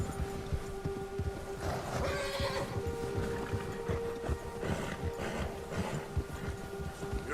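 A frightened horse in the Red Dead Redemption 2 video game snorts and shifts with scattered hoof thuds, a soft neigh briefly showing amid a muffled outdoor background.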